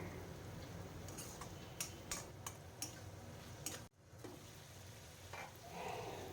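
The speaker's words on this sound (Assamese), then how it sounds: "এইখিনি আৰু অকণমান মই ভাজি ল'ম, এইখিনি লৰাই লৰাই পেলাই।" Potato and gourd pieces frying in a pan while being stirred give off a soft, steady sizzle. A few light utensil clicks are scattered through it, quiet and close, with no talking.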